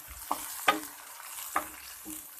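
Onions, tomatoes and green chillies frying in a pan for a Lahori white chickpea gravy, with a steady soft sizzle broken by a few sharp stirring scrapes and clinks.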